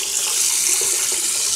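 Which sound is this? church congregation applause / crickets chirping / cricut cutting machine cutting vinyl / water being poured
water being poured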